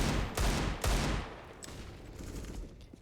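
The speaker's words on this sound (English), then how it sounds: "Actually, hearing these pistols early is good." Pistol shots in a Counter-Strike: Global Offensive match on Mirage, two sharp close cracks in quick succession followed by fainter distant pops and a low rumbling tail.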